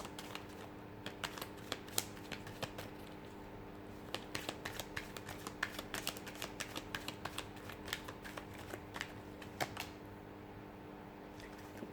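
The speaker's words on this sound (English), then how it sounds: "So we'll give the cards a shuffle" Tarot cards are shuffled close up, a steady stream of quick crisp clicks and riffles with a few louder snaps, and no voices.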